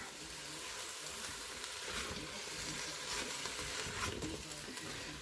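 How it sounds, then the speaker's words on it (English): Chicken with pineapple, peppers and onions stir-frying in an Instant Pot, a steady close sizzle with the rustle and scrape of stirring running continuously, with no talking. "we're just gonna continue to stir fry this basically for about another 5 minutes"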